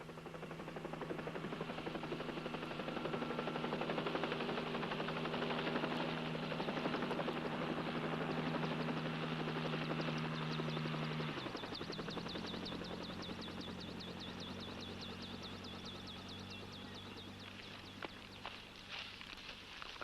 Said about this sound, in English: the chopper's got all the weight she can carry.